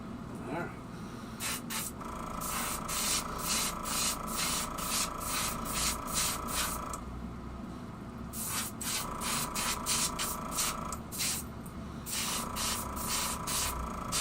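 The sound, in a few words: airbrush spraying metallic paint onto fishing lures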